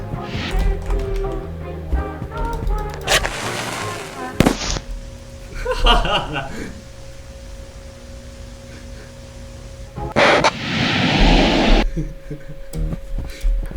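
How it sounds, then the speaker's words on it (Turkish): A video game character in Escape the Backrooms blows himself up, a loud sharp blast followed by a noisy burst of debris, with game tones and other booming effects around it and players talking. "adam kendisini patlattı"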